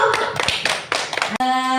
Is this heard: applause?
yes